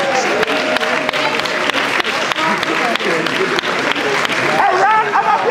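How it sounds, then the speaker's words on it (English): Audience applause at a runway show during The Cleopatra Ball, dense clapping with cheers running throughout under a loud voice, with sharp gaps and a hyped shout near the end. "Give them a round of applause, y'all."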